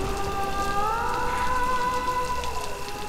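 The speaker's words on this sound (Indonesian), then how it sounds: "Langit cerah beberapa waktu yang lalu dan sudah mulai hujan sekarang" Rain falling in Mumbai, a close, steady patter on surfaces, with gliding tonal sounds drifting above it and no talk.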